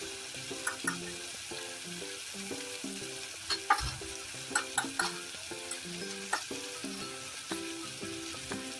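Chickpeas frying with red chili powder and turmeric in a pan for a pressure-cooker chana usal, stirred in steady repeated scrapes over a continuous sizzle, no voices.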